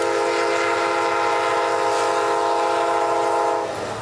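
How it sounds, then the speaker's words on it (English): A passing train in a Beaumont neighborhood sounds its horn in one long, loud, sustained blast that holds steady for several seconds before abruptly cutting off, with no voices over it. "peace in the neighborhood has been interrupted by the sound of passing trains blaring their horns"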